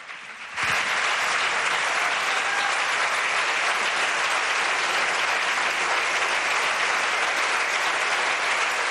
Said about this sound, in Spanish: Puigdemont, el presidente Oriol Junqueras, aplaudiendo todo el mundo y de pie.